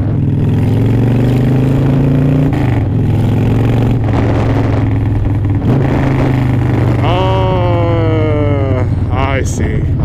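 A Harley-Davidson motorcycle engine, loud and close, drones steadily, then its pitch climbs sharply as it revs up near the end, with a rider talking over it.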